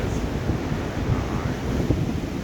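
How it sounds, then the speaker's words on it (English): Wind at Kings Beach, Caloundra, a strong, constant buffeting roar across the microphone, with a faint wash of surf beneath. "It's getting a bit windy and cold"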